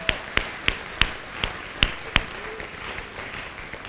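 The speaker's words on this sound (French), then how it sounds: "Prenez vos mains et applaudissez le Seigneur ce matin." A congregation at a church service claps sharply at a steady beat, about seven strikes spaced roughly a third of a second apart, then fades into quiet room noise.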